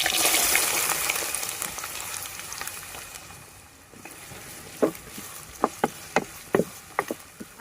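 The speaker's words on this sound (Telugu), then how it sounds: "ఉల్లిపాయలు దోరగా వేయించుకుందామండి." Onions, garlic and green chillies frying in about a cup of oil for boti curry, a dense close sizzle at first that thins out, followed by a run of sharp spattering pops.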